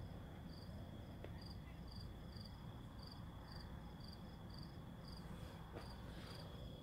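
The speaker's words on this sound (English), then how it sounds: "Can you guys hear the crickets?" Crickets chirp outdoors in a quiet evening setting, a faint steady pulsing trill repeating at an even rhythm over a low background hum, with no talking.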